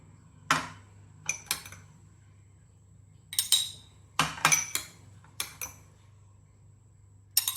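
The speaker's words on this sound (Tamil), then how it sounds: "நான் நன்னாரி சர்பத் ஊற்றி இதை மிக்ஸ் பண்ணிக்கிறேன்" A spoon stirs nannari sherbet in a glass for Madurai jigarthanda, giving scattered sharp metallic clinks against glass, sometimes in quick pairs, set apart by quiet gaps.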